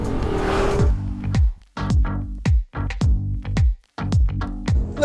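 A turbocharged Mercedes-Benz GLS SUV of about 5,700 pounds with an EQ Boost starter-alternator accelerates hard, its engine note loud and close, climbing in repeated surges broken by short gaps.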